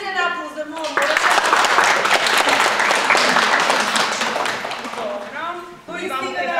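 An audience at a school event breaks into loud, sustained clapping and cheering for several seconds, with a speaker talking just before and after.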